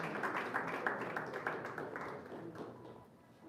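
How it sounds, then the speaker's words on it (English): Faint, steady applause from a crowd at a live entertainment event in Ghana, many hands clapping in an even wash that tapers off toward the end. "a round of applause for the president of the Musicians Union of Ghana, Uncle Bessa Simons"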